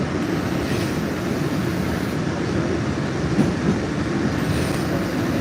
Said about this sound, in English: I think this train is having problems.